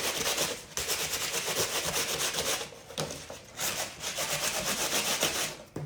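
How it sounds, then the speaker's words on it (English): A sanding block scrapes back and forth across wood in steady, rasping strokes, close and loud, with brief pauses between passes. "then I used a just a sanding block"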